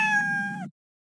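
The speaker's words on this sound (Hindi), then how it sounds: "वह बिल्ली म्याऊ की आवाज़ भी करेगी" A single cat meow sound effect from the Scratch programming environment plays close and clean for under a second, then cuts off to silence.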